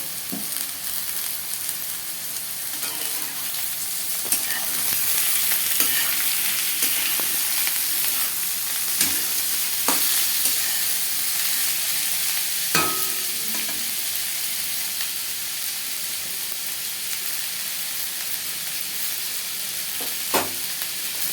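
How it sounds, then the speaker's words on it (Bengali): Sliced onion and potato fry together in a pan for chowmein, giving a loud, continuous sizzle with frequent scraping and clicking from stirring. "পেঁয়াজ আলু একসঙ্গে ভাজা হচ্ছে।"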